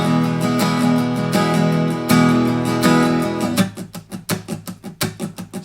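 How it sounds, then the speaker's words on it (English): Open-chord rock strumming on a guitar for a song: a steady back-and-forth pattern that shifts partway into sharper, choppier accented strokes, close and fairly loud with no voice. "the strum pattern is a pretty straight back and forth type of rock strum with an emphasis on the one beat"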